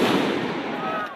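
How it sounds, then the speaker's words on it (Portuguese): Skyrocket fireworks set off by protesters during a street protest crackle and hiss loudly and densely, filling the clip with a continuous, sputtering burst of noise. "Os manifestantes usaram rojões no protesto."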